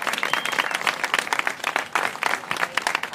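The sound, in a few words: audience applause after a keynote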